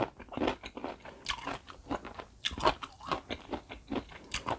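Salt-pickled mango, an old-style recipe, crunched in repeated crisp bites with wet chewing between them, close to the mic and steady across the stretch, no talk.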